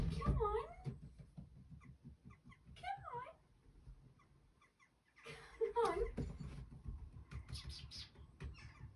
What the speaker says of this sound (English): my cat's in my window, let me just let her in, she's just staring at me